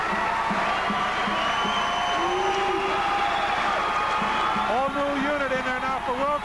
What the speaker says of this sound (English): look at this crowd giving their team a standing ovation as the Colonels come off